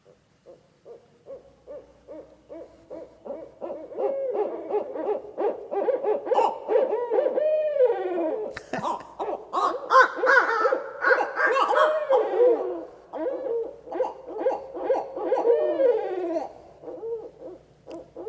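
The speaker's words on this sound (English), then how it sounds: "So let's listen to a barred owl." Barred owls calling in a long chorus of rhythmic hoots and wild cackling, several birds overlapping and rising to a frenzied peak midway before settling into repeated hooting phrases, fairly close and clear against a quiet background.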